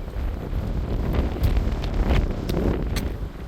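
Steady, loud wind buffeting a microphone outside the abandoned Sunrise Mall in Massapequa, with low rumbling gusts swelling and easing throughout and no voices.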